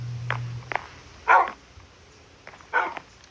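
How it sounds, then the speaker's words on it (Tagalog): Dogs bark in a few sharp bursts, a couple of louder barks standing out, with a brief low hum at the start and quiet gaps between. "Kukulit kasi yung mga aso mga yun."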